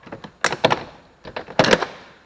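A trim panel is pried off a BMW E-series rear door, giving two clusters of sharp plastic clip pops and thunks separated by a short pause, close and fairly loud.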